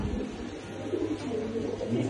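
Pigeons coo softly nearby, low throaty warbles rolling over one another in a quiet, enclosed space.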